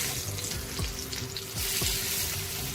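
Stuffed green chillies frying in a pan, with a steady close sizzle and a few soft clunks and scrapes as they are turned over.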